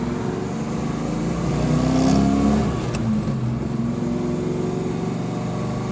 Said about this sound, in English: We're gonna drive it regularly right now, go through all the gears, show that the clutch doesn't slip.